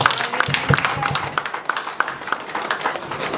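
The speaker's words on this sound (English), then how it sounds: "Please clap for yourself." An audience at a Women's Day gathering applauding, a dense wash of many hands clapping steadily and fairly loudly, with a few sharper claps standing out across the whole stretch.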